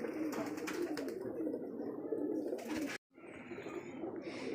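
Giribaj homing pigeons with heavily feathered feet coo steadily at a Rajshahi loft, a low continuous murmur of several birds, with one brief break near the end before the cooing resumes.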